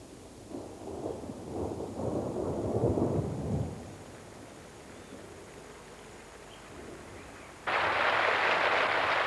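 Thunder rumbles low and heavy over a flooded rainforest lagoon during the mid-April rains, fades to a quiet lull, then a loud, steady downpour of rain suddenly begins.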